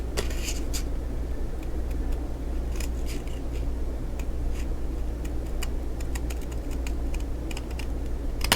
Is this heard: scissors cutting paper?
yes